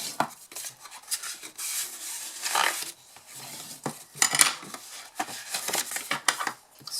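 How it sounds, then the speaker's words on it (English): Paper card is folded along score lines and burnished with a tool, giving close dry rubbing and scraping strokes in uneven bursts with brief pauses between them. "We're going to fold and burnish those score lines."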